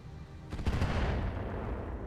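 Indirect artillery fire lands in the RogueTech mech game, a deep rumbling barrage that swells about half a second in and keeps booming steadily to the end, with no talk over it.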